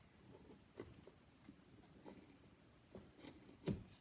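Scissors cutting cardboard for a bulletin board recipe box: faint, close snips and rustling crunches at an irregular pace, with a sharper cut near the end, in an otherwise quiet room.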